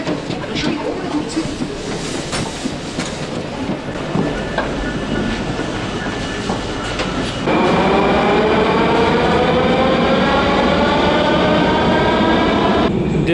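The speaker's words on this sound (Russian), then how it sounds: "пойдем прокатимся на метро" A Kazan metro train rolls along, its steady rumble giving way midway to a loud rising whine as the carriage accelerates, with faint talk in the background.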